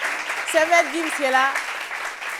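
An audience at a French talk event applauds a rapper, a steady wash of clapping running beneath someone speaking into a microphone.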